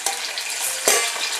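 Prawns cooked with bilimbi sizzle and hiss in a clay pot on a stove, a steady close frying crackle with a sharper burst partway through.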